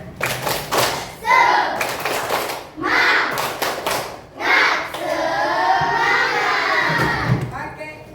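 A classroom group does a rhythmic spirit clap, bursts of synchronized claps and thumps between excited children's shouts, with a teacher speaking over part of it.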